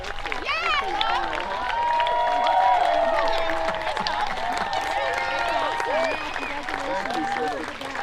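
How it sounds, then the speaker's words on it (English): A rally crowd applauds steadily for about eight seconds, dense clapping swelling in the middle and easing toward the end, with cheers and voices talking over it. "give them one more strong round of applause"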